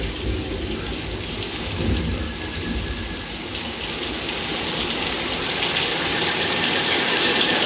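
Artificial rain pours from overhead sprinklers on a studio backlot set during the Universal Studios Hollywood tour, a loud steady hissing downpour with a rumbling, thunder-like swell, growing slightly louder toward the end.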